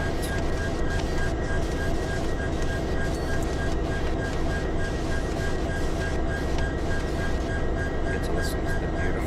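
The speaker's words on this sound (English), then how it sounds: "Get to listen to the beautiful EMD at idle for a couple minutes here." An EMD diesel locomotive idles in a yard in the Trainz 19 train game, a loud, steady rumbling throb that holds without a break.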